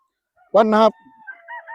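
A Bukidnon Dirty Gray gamefowl rooster gives one short, loud crow, with faint bird chirps lingering in the background afterward.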